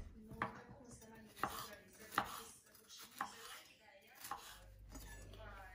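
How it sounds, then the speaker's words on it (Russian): A knife slices through bell pepper on a cutting board while noodles are being prepared, giving about five sharp, evenly spaced chops over a low kitchen background. "Нарезаем болгарский перец."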